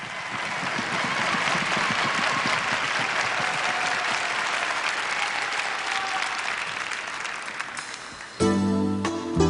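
A large crowd at a 1999 Latin dance championship in Helsinki applauds and cheers steadily for the local couple, dense clapping sustained throughout before music cuts in at the very end.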